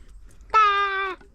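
A single drawn-out cat meow, clear and close, lasting just over half a second against a quiet background.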